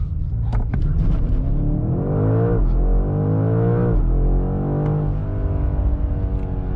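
A 2025 BMW M5 accelerates hard in a 0-60 run, its engine roaring loud and close. The pitch climbs steadily, drops briefly at each upshift, then rises again under a constant heavy rumble.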